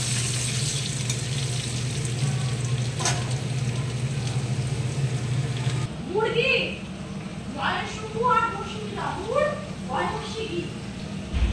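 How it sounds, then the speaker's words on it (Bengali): Cut potatoes fry in oil with a steady sizzle and a low hum for the first half. After that, a person talks over softer frying and watery clatter. "কাটা রাখা আলুগুলো ভেজে নেব, লাল করে ভেজে নেব"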